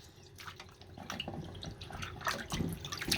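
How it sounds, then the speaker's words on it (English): Chicken feet being washed with lime under running tap water: close splashing and dripping with small irregular bursts of water over a faint steady flow. "I'm gonna wash it thoroughly. Wash it with lime"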